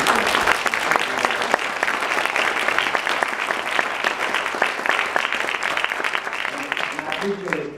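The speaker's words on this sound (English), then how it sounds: "Please let us give him an appropriate round of applause" Sustained applause from a conference audience at a neuroethics society annual meeting, dense steady clapping that fills the room for several seconds and thins slightly near the end.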